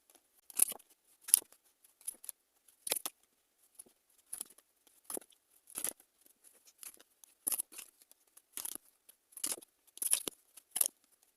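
Tarot cards being shuffled and drawn make quiet, crisp flicks and snaps that repeat at an irregular pace against near silence.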